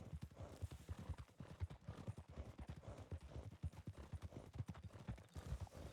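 Horse hooves clip-clopping across a bridge in the RedM video game, with rapid overlapping hoofbeats from several horses, fairly close and continuous, and a faint neigh in the mix.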